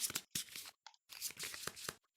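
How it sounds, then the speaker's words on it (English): A deck of cards for the Kingdom Death Monster board game is shuffled, giving close riffling bursts broken by short pauses, with no talk. "shuffle this 3 times"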